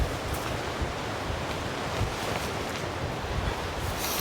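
Strong wind roars steadily and loudly across an open campsite in a cold storm, a dense, continuous rush with gusty swells and no pauses.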